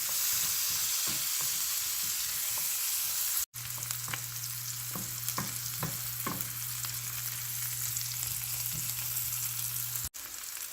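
Onions sauté in melted butter in a pan, with a soft steady sizzle throughout and a few light utensil taps and stirring clicks over it.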